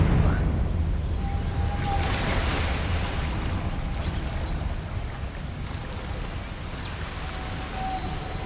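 A Confringo fire-blast spell in Hogwarts Legacy bursts into a broad, roaring explosive rush that stays loud and sustained, then slowly settles into a rumbling hiss.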